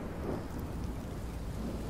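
Steady rain with a low thunder rumble fills a scene in the video game Minecraft: Story Mode, a dense, continuous wash of sound without a break.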